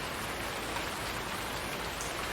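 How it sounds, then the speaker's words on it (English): Steady rain falls in a farming video game with a seasons setting, an even, dense hiss of drops that stays constant with no voices. "so it's gonna be raining the whole day"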